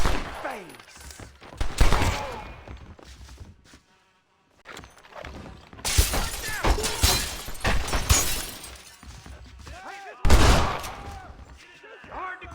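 Gunfire in Red Dead Redemption cracks out as several sharp, loud shots spread across a chaotic fight scene, mixed with shouting voices and game sounds, with a brief near-silent gap partway through.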